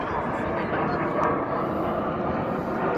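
An airplane passes overhead as a continuous, broad roaring rush, steady and fairly loud, with some voices faintly mixed underneath.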